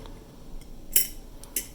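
A quiet rustle followed by two sharp metallic clicks as a small tea tin lid is popped open, close by with no talking.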